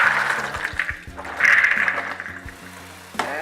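Soaked chickpeas being drained, water pouring and splashing steadily with a louder gush in the middle, close by and with no talking.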